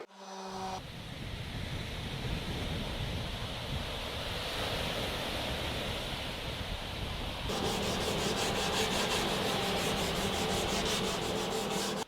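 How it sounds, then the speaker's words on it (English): Sandpaper of 150 grit rubs steadily across a thin wood-veneer table top, a continuous close, loud abrasive scrubbing that grows slightly harsher and more rhythmic in its second half. "I've sanded it down. It's a thin veneer."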